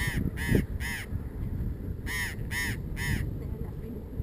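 Harsh, repeated bird squawks in two bursts of three, loud and nearby, with a low rumble of wind or traffic underneath.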